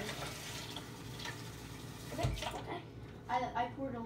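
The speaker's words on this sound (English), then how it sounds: "I'm gonna fill water up till there" Water is poured into a container while making a homemade breakfast, a steady splashing stream with a brief louder burst midway, and someone talks over it.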